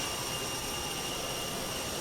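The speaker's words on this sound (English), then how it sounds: "the IAE engines have a very distinct roaring sound" Steady jet roar from the IAE engines of an Airbus A320 in a flight simulator, a constant broadband rush with faint high tonal whine, unbroken and alone.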